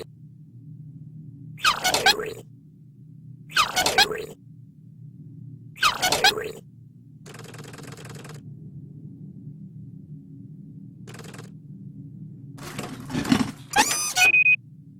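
Gears are fitted into a machine in the adventure game The Book of Unwritten Tales 2. Three sharp metallic clanks ring out at even spacing over a low mechanical hum, followed by a buzzing whir and a few squeaky clicks.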